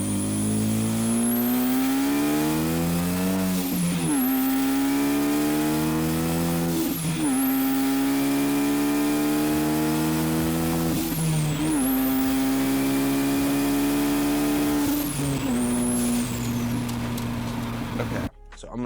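A Ford Focus ST with a Pulsar G25 550 turbo pulls hard through four gears, its engine rising loudly in steady revving sweeps, each ending in a sharp shift and turbo flutter before climbing again.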